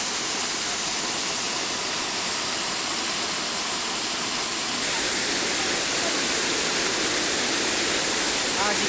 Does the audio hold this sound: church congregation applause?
no